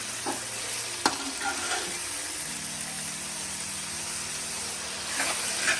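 Grated tomatoes drop into a pan of frying masala for an aloo gobi, giving a steady, close sizzle and hiss with a faint knock of stirring, continuous throughout without talk.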